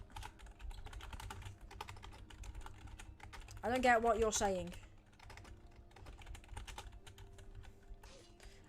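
Rapid clicking keystrokes on a computer keyboard during a Roblox tournament livestream, continuous and close, with a brief spoken phrase partway through.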